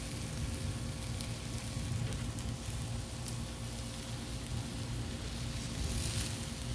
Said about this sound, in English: Ooh, we're getting a good sear.